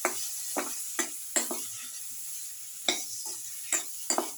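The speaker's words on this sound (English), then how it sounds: "Put in the eggplant pieces or aubergine pieces." Eggplant pieces tossed into a hot casserole pot, then stirred with quick clinking scrapes at an uneven rhythm over a soft sizzle, close and clear.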